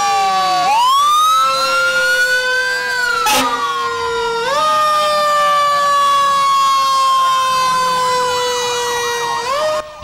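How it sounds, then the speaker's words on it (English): Police cars and fire trucks pass in a Christmas parade in Pahokee with sirens wailing loud and close, several overlapping rising and falling tones and a sharp horn blast. "Here come the policemen and the fire trucks. Their lights and sirens are on and they're very loud."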